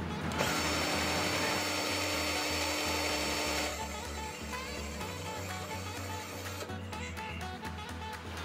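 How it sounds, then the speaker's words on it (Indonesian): A Worksite CD331 20V cordless drill runs at maximum RPM, a steady close high-pitched motor whine with gear rattle, which drops in intensity midway and then continues with some clicking toward the end. "sekarang kita cek RPM-nya."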